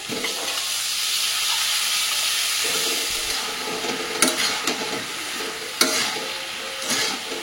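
Vegetables frying in a pan with spices, a steady close sizzle and hiss with occasional clicks of stirring, no talking.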